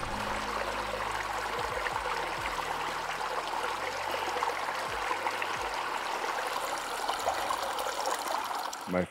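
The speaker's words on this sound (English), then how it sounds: "My first running water of the day." A steady rush of trickling desert stream water runs continuously, close by and fairly loud, with faint low thumps underneath and no talking, in Baja California.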